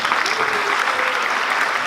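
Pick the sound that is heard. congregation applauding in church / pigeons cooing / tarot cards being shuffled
congregation applauding in church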